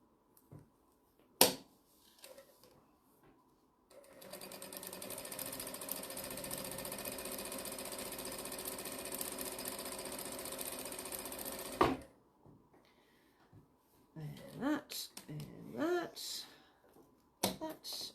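A sewing machine runs a continuous stretch of rapid, even stitching for about eight seconds while topstitching a jelly roll strip tote bag, close and loud, with sharp handling clicks before and after and a voice speaking near the end.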